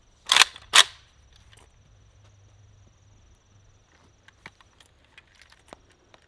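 Two sharp, loud AK-47 rifle shots crack in quick succession at a Halloween pumpkin outdoors, followed by faint scattered clicks and quiet handling sounds.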